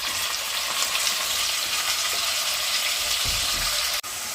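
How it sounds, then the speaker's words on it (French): Pieces of pork sizzle steadily in a hot frying pan as they brown, a dense continuous crackle with a brief stirring scrape near the end. "on met ça à rissoler un petit peu sur chaque face"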